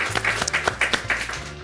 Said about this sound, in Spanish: Un aplauso para este señor, por favor.